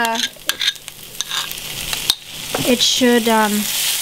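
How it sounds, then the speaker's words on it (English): Sauce stirred into wilted wild greens in a hot pan, with a steady sizzle and scraping stir strokes up close and a brief tonal, voice-like sound partway through. "We have our wilted greens now. I'm just going to add the sauce."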